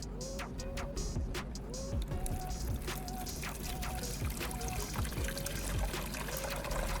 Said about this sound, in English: After a good shake, I'll dump the dirty water out into the basin.